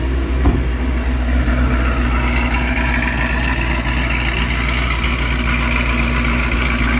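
A 2014 Chevrolet Camaro ZL1 engine idles steadily and loudly, a deep constant rumble with a slight blip near the start, no voices.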